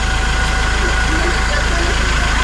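A pickup truck engine idles steadily at close range, a constant low rumble with a mechanical hum running unbroken through the whole stretch.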